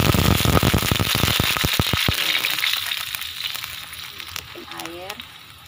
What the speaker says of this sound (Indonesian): kita masukin air ya Maya